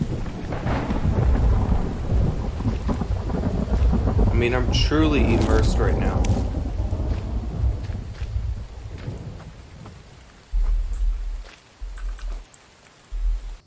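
Rain and rolling thunder in a survival video game, with a loud crack midway, wind noise throughout, while someone talks over it; the storm fades near the end.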